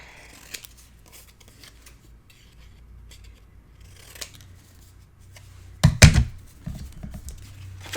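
Scissors trim paper for a Stamperia Romantic Christmas advent calendar craft project. Mostly quiet at first, then a close, loud burst of several crisp snips and paper rustles near the end.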